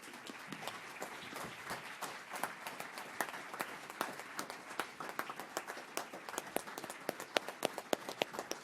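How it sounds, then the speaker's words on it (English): A small group at a school board meeting claps for Emily Wilson, the individual claps distinct and fairly sparse, steady and moderately close, with a few sharper claps near the end. "I hope we can give her a round of applause"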